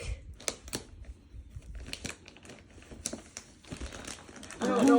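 Thick plastic wrapping is slowly peeled and crinkled off a Japanese Aibo robot dog box, with close, irregular crackles and tearing bursts and a brief voice near the end.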